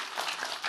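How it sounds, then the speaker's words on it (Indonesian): Applause from the audience at an Indonesian religious sermon in Indramayu, a steady wash of many hands clapping at moderate distance, brief and fairly soft, with no talk over it. "Tepuk tangan tuh Pak polisi."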